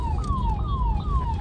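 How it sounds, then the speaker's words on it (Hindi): An ambulance siren wails in steady repeating falling sweeps over a low rumble of road traffic, heard from the road during an evening drive. "एम्बुलेंस एम्बुलेंस अब आई,"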